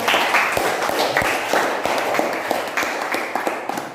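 Schoolchildren clapping together in a classroom, a dense, steady patter of many small hands lasting a few seconds, fairly close, with faint voices mixed in.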